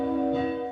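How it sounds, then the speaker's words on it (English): A church bell at St. John's Anglican Church in Fort Smith rings out in one sustained, resonant tone that fades slowly, heard alone and fairly loud. "the bells at St. John's Anglican Church ring for 6 minutes for the 6 lives lost"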